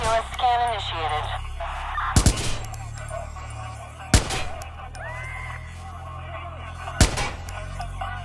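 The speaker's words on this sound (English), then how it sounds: "There's some crazy SOB firing a gun out here." Gunshots in the video game Watch Dogs at a firing range, three sharp loud bangs spaced a couple of seconds apart, over game voices, radio chatter and ambient background sound.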